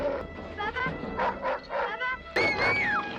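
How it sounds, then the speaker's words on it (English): A guard dog attacks in a 1981 horror film, barking hard in a rapid string of close, loud yelps before breaking into a high, drawn-out whine. "Mary Lee viciously gets attacked by a guard dog that ultimately leads Bubba to panic,"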